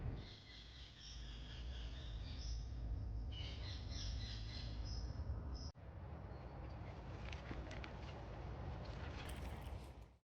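Harsh, high-pitched rose-ringed parakeet squawks repeat in scattered bursts over a steady background rumble in London, fairly close and loud.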